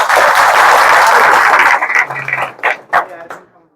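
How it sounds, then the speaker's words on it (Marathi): Crowd applause at a farmers' protest meeting, loud continuous clapping that thins out into scattered claps and then fades, with voices emerging underneath toward the end. "त्यांचं टाळ्या वाजवून स्वागत करा"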